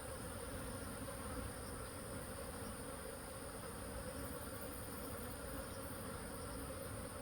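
Native Korean honeybees swarming up into a hive box fill the air with a dense, continuous buzzing hum, steady and close throughout with no other sounds.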